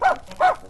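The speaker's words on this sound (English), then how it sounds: "Go-Go started barking at the white rabbit and leaped out of Alice's arms to chase him." A small dog barks twice in quick succession on a children's story record, two short bright yaps close to the microphone with no talking over them.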